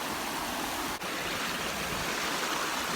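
A mountain stream rushes near a waterfall, a dense, even roar of flowing water close by that stays steady throughout.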